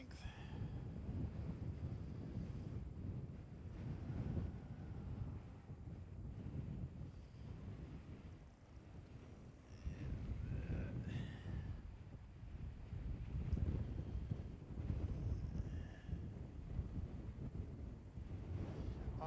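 Strong wind buffets a microphone outdoors at a radar station, a constant loud roaring rumble with surging gusts throughout and no speech.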